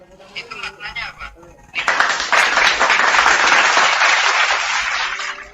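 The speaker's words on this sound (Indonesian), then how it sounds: "Jangan tepuk tangan dulu" Loud, close audience applause breaks out and keeps going as a dense wash of many hands clapping, after a few seconds of talking and background chatter at an Islamic gathering.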